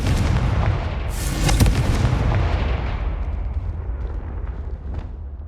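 A Confringo blasting spell in Hogwarts Legacy sets off a sustained, roaring explosion that rumbles loudly throughout and slowly fades toward the end.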